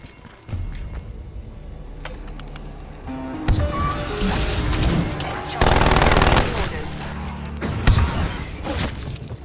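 An automated sentry turret in the video game Black Ops Cold War Zombies rattles off sustained rapid fire amid dense combat noise, with heavy bursts and thuds layered over one another and a voice speaking briefly.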